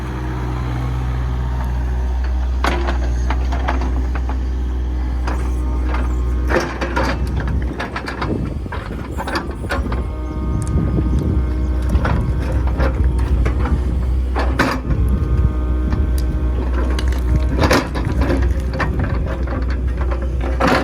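A Kubota KX057 excavator's hydraulic hammer pounds ditch rocks, a steady engine drone underneath a series of sharp, irregular clanking impacts that grow busier after the first few seconds, with no talking.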